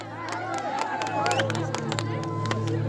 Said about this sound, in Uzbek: Endi shu qiy-chuv qarsaklarni bir 5-6 ga ko'paytirib chalamiz.